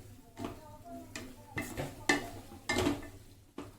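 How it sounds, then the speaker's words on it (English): Vegetables and spices for vangibhaat stirred in a pan over a high flame, with irregular scraping and clattering strokes of a spoon against the pan, moderately close, over a faint sizzle. "this has to be sauteed very well. Now you can do it on high flame"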